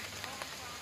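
Rain keeps falling outdoors after a storm with strong wind that toppled trees, a steady soft hiss across a brief moment, faint and even.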